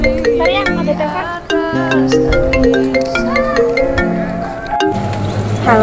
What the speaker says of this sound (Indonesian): Bentar ya, ada telepon.